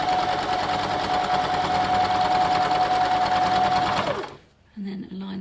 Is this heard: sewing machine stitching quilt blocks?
yes